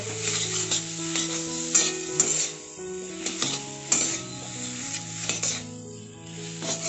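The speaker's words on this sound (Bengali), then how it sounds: "এবার এখানে হলুদ গুঁড়ো দিয়ে দিচ্ছি স্বাদ অনুযায়ী নুন দিচ্ছি আবারও খুব ভালোভাবে মিক্স করে নেব" Jackfruit seeds tossed with turmeric powder and salt in a pan, a steady scraping stir with a soft sizzle underneath and occasional clinks of the spoon on the pan, alone with no talk.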